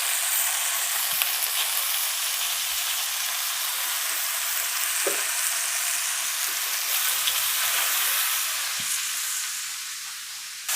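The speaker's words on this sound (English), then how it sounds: "Sizzle, sizzle, sizzle." Pork chops frying in a hot oiled skillet give a steady, close, broadband sizzle with faint crackles throughout, with no talk over it.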